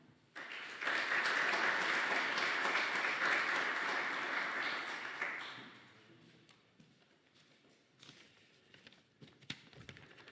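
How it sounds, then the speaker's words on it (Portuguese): Audience applause at a civic forum in Oeiras, Portugal: a dense burst of many hands clapping starts abruptly, holds strong for several seconds, then fades into scattered claps and room noise. "Minhas senhoras e meus senhores, uma grande salva de palmas para Rui Melo."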